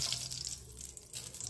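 Lard melts in an already hot cooking pot, giving a steady close hiss and crackle of sizzling fat with no voices.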